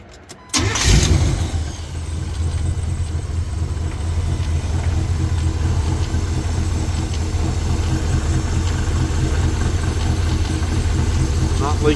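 An A-Team van with a fuel flooding problem and a recently leaking fuel filter fires up with a sharp burst, then settles into a steady, loud, rumbling idle that carries on evenly.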